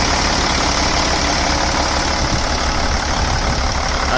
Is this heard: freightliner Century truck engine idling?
yes